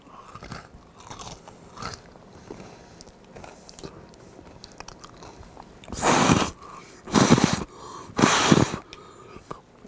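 Crunchy bites into an edible Christmas ornament, with quiet chewing and small crackles at first, then three loud close crunching chews spaced about a second apart.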